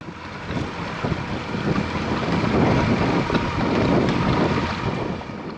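A dinghy carries passengers across open sea water in the Galapagos, near Santa Cruz, with a steady rush of wind and water buffeting the microphone throughout, loud and continuous with no voices.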